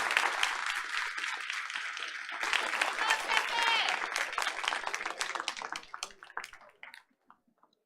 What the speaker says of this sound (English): Let's congratulate this beautiful family with another round of applause.